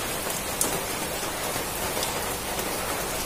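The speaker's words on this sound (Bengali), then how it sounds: "আর বাইরে বৃষ্টিও হচ্ছে" Heavy rain falls outside in a dense, continuous hiss of drops on surfaces, even and unbroken, heard alone without voices.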